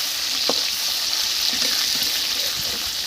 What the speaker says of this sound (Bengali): এবার আমি মাংসটা কষিয়ে নেব